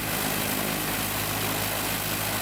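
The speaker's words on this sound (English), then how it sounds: "that engine lit right off like it had been flying, and I mean, lit off and ran like a sewing machine" The engine of a restored Piper airplane running smoothly, a loud, steady droning hum with an even low throb, constant throughout with no talk.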